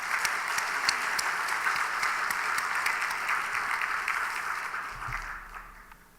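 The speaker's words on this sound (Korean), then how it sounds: "격려의 박수를 한번 하십시오." A church congregation at a Sunday night service applauds a missionary, the dense, steady clapping filling the room for about five seconds before tapering off toward the end.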